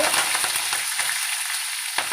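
Curry leaves sizzle and crackle loudly in hot oil, with a dense spattering hiss and scattered pops.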